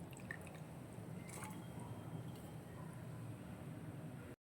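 Turkey berries being washed by hand in a bowl of water, a steady wet squishing and dripping sloshing close by throughout, with no talking.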